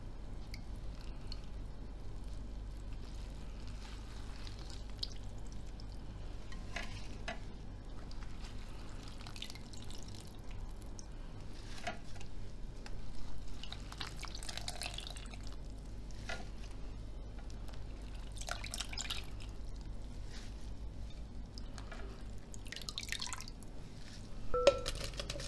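Chanterelle mushrooms being washed gently by hand in a bowl of water: soft, quiet sloshes, squishes and drips over a steady low hum.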